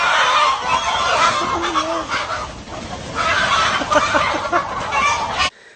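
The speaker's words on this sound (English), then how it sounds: "this hawk got into the wrong chicken coop and they beat this hawk's ass" Chickens in a coop attack a hawk, raising loud, frantic squawking, honking and clucking that churns nonstop and close until it cuts off abruptly near the end.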